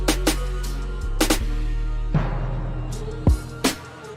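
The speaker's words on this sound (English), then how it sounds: "So I got a timpani right there, but I want to throw some reverb on it because I want it to sound big" Timpani hits drenched in reverb within a beat, with several deep booming strikes and short percussive accents spaced irregularly over a low sustained bass, each hit trailing into a big wash.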